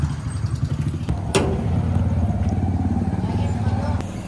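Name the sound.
motorbikes passing on a village road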